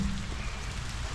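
Steady rain falls outdoors beside a grill, a dense, even hiss of drops on surfaces with a low rumble underneath, continuous and moderately loud with no talking.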